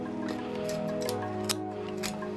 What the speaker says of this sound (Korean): 그 다음에 날개 끝부분, 이 부분도 잘라줍니다